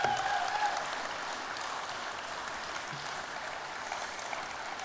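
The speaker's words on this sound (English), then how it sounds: "A round of applause for our Barry Sheen medalists" A large audience applauds medalists at the Supercars Championship gala, a steady wash of clapping that swells briefly at the start and then holds.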